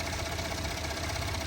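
Steady, even hum of a Ford Expedition's 3.5-litre EcoBoost V6 idling while warming up, with a constant low rumble and no changes in pitch over the short stretch.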